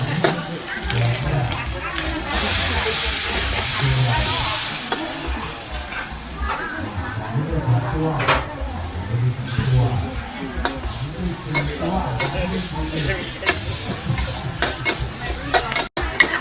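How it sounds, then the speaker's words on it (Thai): Loud, continuous sizzling and clattering of Pad Thai noodles tossed in a wok, with bursts of hissing steam and people talking nearby. "นี่ทุกคนเขาผัดกระทะต่อกระทะเลยไม่ไม่มีหยุดเลยนะ"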